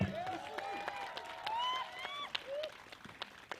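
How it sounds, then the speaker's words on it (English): Outdoor audience at a festival performance applauds a demonstrator, scattered, fairly faint clapping mixed with voices and excited shouts and whistles from the crowd. "how about a huge round of applause for your demonstrator?"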